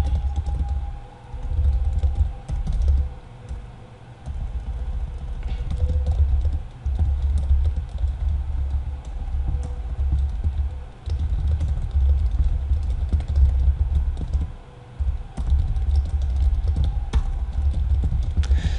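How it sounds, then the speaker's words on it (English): Typing on a computer keyboard to enter a comment, with steady soft key clatter running continuously over a low background hum, close by and fairly quiet. "you can type a comment here like something like this"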